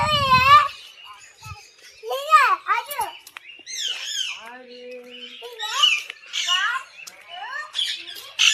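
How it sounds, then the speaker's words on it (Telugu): Parrots at a zoo in Tirupati squawk nearby in harsh, rising and falling calls, repeated with short pauses between bursts. "ఇక్కడ కూడా ఉన్నాయి చూడండి ఇవి వచ్చేసి మన చిలుకలు అన్నమాట"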